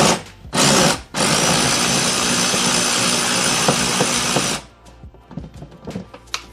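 A Bauer 3/8 inch electric ratchet whirs loudly up close in a short burst, then in one long sustained run of several seconds, followed by light clicks and clatter of handling, with no talk.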